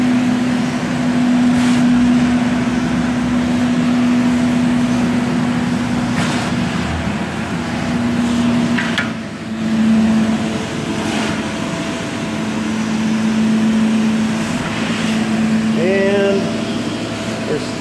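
The turbo props of a Zipper SS Super Spinner surface cleaner run with a loud, steady mechanical hum and a constant low tone that dips briefly midway. A voice talks over it at times.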